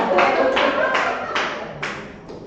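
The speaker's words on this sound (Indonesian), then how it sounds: "Oke, tepuk tangan buat Bulky." Hand clapping from a small audience at an Indonesian school presentation on positive culture, several loud broadband claps in an uneven rhythm with faint room noise and some murmuring between them.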